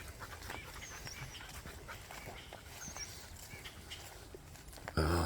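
Dogs out on a creek hike, panting and sniffing close by over a steady outdoor background, with a louder thump near the end.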